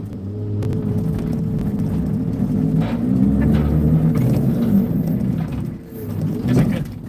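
A heavy machine's engine rumbles steadily and swells slightly as the RPMs are raised, a low, continuous drone close by with a few faint clanks and no talking.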